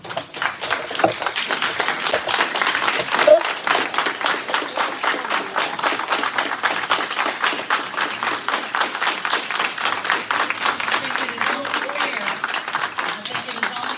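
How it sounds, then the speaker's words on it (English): A room at a Dolton village trustees meeting gives firefighters a standing ovation, dense sustained clapping from many people at a steady level with some voices underneath. "Let's give our firefighters a standing applause."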